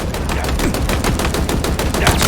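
Rapid automatic gunfire in the video game Halo Infinite, a dense, loud rattle of evenly spaced shots firing continuously throughout, with no speech.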